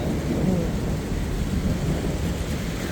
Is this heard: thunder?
yes